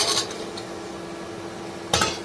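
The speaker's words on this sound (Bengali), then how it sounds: "এবার এর মধ্যে দিয়ে দেবো রাজমাটা।" Boiled kidney beans (rajma) go into a spiced pan with two sharp metallic clinks of a utensil against the pan at the start and end, a quiet low hiss between, no voices.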